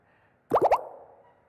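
Three quick water-droplet plops in a row, like the Xiaomi MIUI 10 default notification stacking for multiple alerts. The bright, rhythmic bloops play alone and trail off into a soft ringing tail.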